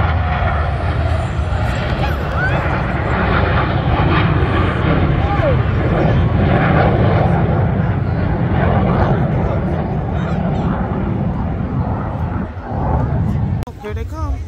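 Blue Angels jets roar overhead at a beach air show in Jacksonville, a loud continuous rushing rumble that fills the whole stretch, with people talking nearby underneath.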